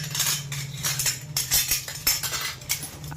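Serving spoons for rice and roast clink and clatter against each other in quick, irregular, close metallic taps over a low steady hum, with no one speaking.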